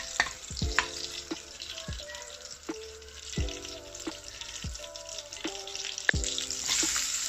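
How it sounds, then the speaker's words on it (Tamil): Butter melting in a frying pan while making cutlets gives a steady, soft sizzle with scattered small clicks and knocks, with no voices. "இப்போ பட்டர் நான் போட்டிருக்கிறேன். இப்போ பட்டர் உருகி வரைக்குள்ள நாங்கள் வெங்காயம் சேர்க்க போகிறோம்"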